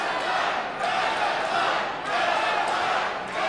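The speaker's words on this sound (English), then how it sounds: "Crowd wants to see a fight here." Wrestling crowd at a House of Glory show roaring and shouting continuously, a dense, loud wall of voices that swells and dips in waves throughout.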